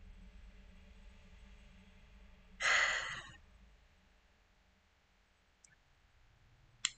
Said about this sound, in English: I can hear the breathing.